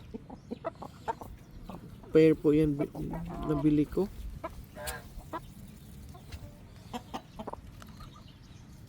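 Shamo gamefowl cluck and call close by on a farm for a couple of seconds amid background noise, while someone talks.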